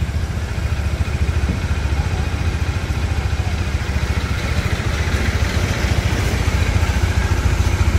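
Kawasaki 400cc motorcycle idling close by, a steady, even low engine throb with a slight clatter that holds unchanged the whole time, no voices.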